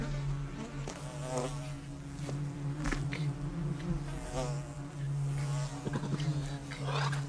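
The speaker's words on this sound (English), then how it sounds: "he's not immune to the stings of these infuriated bees." A swarm of angry bees buzzes steadily while defending its hive against a honey badger, a dense, close, continuous drone with a few sharper rises.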